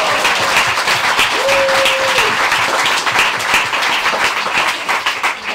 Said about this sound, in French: Et pour ça, on peut l'applaudir.